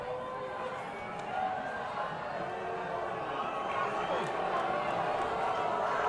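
A rugby crowd at a school semi-final reacts unhappily to a referee's decision, a steady dense murmur of many voices rising slightly with scattered shouts, heard at a distance.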